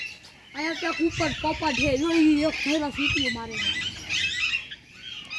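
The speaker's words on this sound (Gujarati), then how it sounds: "પહાડી પોપટ બહુ મસ્ત બોલે છે." A hill parrot gives a rapid run of harsh, squawking calls close by, rising and falling in pitch before trailing off.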